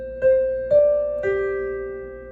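Three sustained, evenly spaced piano notes ring out one after another from a tune practised note by note, each strike decaying slowly, close and alone with no voices.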